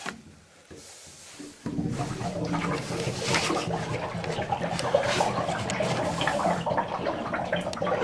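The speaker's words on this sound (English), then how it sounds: "You can hear the water gurgling out." Water gurgles and splashes as it drains from a cabin's hot water tank during winterizing. It starts with a faint trickle, then turns into a louder, continuous churning flow close by.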